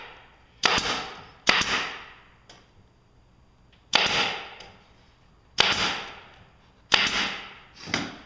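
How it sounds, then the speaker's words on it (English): Staples driven one at a time into wooden apple crate boards, each a sharp, loud snapping crack with a short decaying tail; six hits in uneven bursts, two close pairs and a single weak one, with quiet gaps between. "I'm just going to put a staple in each one."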